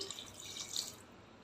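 A glass of water is poured into a pot, to be brought to a boil, in a kitchen. It makes a brief, soft, steady trickling hiss that fades out at the end.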